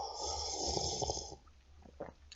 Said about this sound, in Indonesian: saya mau seruput kopi dulu.